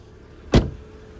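A 2007 BMW X3 M-Sport with a faulty sunshade gives one short, sharp mechanical thunk as the shade motor stops, close and alone against a quiet cabin.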